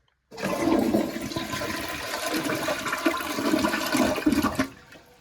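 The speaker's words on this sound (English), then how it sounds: "All right, we'll give it a test flush." A Glacier Bay Power Flush toilet flushes in a steady rushing swirl of water that starts abruptly, holds for several seconds and then tapers off, close by and alone without talk.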